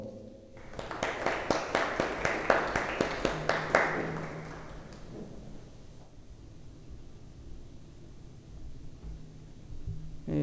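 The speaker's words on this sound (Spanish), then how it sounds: "un fuerte aplauso de bienvenida, por favor" Welcoming applause at a youth forum on communication and politics, a short run of about a dozen loud, distinct claps over a few seconds, then fading to quiet room tone.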